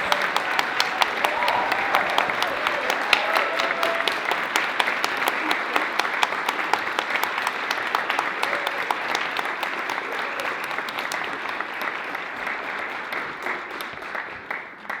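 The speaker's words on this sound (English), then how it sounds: "could we please give them a round of applause?" Long, loud applause from an audience, some standing in galleries, at an opening ceremony in the House of Commons, steady and dense before thinning toward the end, with faint voices mixed in.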